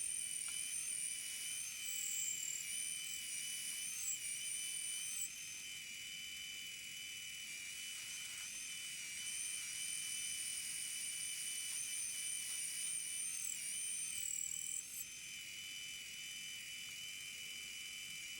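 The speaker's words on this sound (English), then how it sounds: "now we're going to start machining out the space for the thrust bearing" DIY brushless spindle on a CNC3018 machine cutting out the pocket for a thrust bearing, giving a steady high-pitched whine and whir that holds nearly constant with slight pitch shifts, continuous and fairly close.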